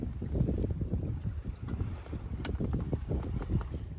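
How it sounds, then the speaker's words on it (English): Steady wind rushes and buffets the microphone aboard a sailboat tacking toward Boothbay Harbor, with low rumbling gusts and faint water noise running continuously without speech. "Now the wind has shifted a little bit, so we're gonna be tacking our way up in."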